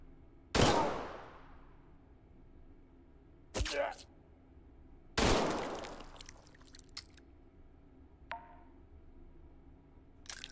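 Gunshots ring out from a TOZ rifle in the VR shooter Hot Dogs, Horseshoes & Hand Grenades. Three loud, sharp single shots are spaced seconds apart, each trailing into a decaying echo, with a fainter mechanical click near the end.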